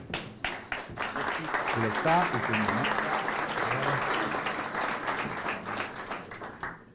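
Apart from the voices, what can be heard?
audience applauding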